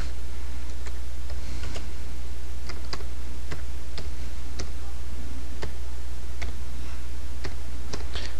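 Keys tapped on a computer keyboard while typing text into Microsoft Word, sparse individual clicks at an irregular pace over a steady low background hum, fairly quiet and close.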